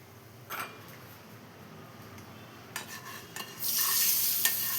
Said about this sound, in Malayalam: ഇനി ഇത് നമുക്ക് കറിയിലോട്ട് ഒഴിച്ചു കൊടുക്കാം